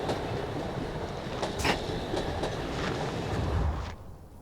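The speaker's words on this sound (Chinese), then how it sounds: "这火车到哪" A train rumbles along continuously with rhythmic clickety-clack of wheels on the rails, heard from inside or nearby, fading slightly at the end.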